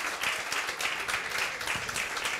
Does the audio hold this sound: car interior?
no